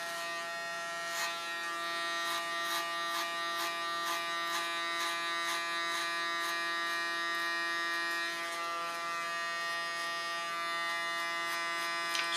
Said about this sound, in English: Use my clipper as a comb.